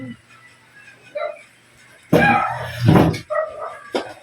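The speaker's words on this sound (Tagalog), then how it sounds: "Tumawol pa yung aso guys." A dog barks a few times close by, loud bursts coming after a quiet stretch with faint household background, followed by a short sharp yelp near the end.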